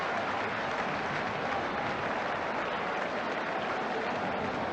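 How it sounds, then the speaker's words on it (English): Crowd at Portman Road football stadium applauds a goal by Notts County against Ipswich Town, a steady, dense wash of clapping from a large distant crowd, even and continuous throughout. "generous applause here from the Portman Road crowd"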